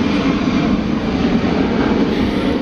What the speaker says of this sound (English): After the jet passes by.